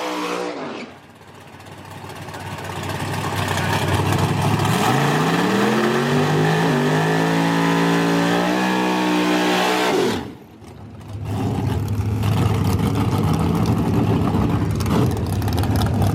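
A 1967 Chevy Nova and a dragster launch side by side at a bracket drag race, engines roaring loud and close, climbing in pitch through the run, a brief dip, then another sustained blast of engine noise.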